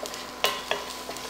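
Crumbled tempeh browning in a pan, a gentle steady sizzle with two sharp stirring scrapes close by and a softer one after.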